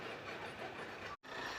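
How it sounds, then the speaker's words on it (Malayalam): A goods train at a railway station where track work is under way, heard as a steady, dense rumbling roar that drops out for a brief moment near the end, with no talking. "തൊട്ടപ്പുറയിൽ ഗുഡ്സ് ട്രെയിൻ കിടപ്പുണ്ട്."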